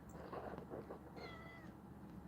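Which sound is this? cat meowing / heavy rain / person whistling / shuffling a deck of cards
cat meowing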